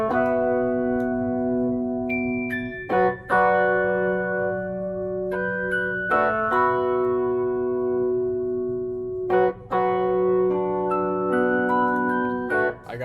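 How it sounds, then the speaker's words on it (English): Soft Rhodes electric piano chords from a Kontakt sample bank, sustained and held in a slow progression with gentle changes every few seconds, warm and steady with no voices. "I first started off with these Rhodes chords from a contact Rhodes bank I got"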